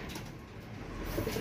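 Racing pigeons cooing softly in a loft after a summer race, a low murmuring coo near the end of a short stretch over steady background noise.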